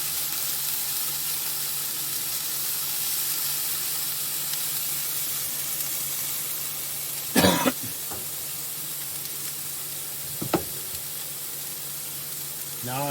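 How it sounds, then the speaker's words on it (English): Crushed red pepper sizzling in a pan while being stirred, a steady soft hiss throughout, broken by a couple of brief coughs or throat-clearing sounds. "We're just going to stir it up just for about 20 seconds,"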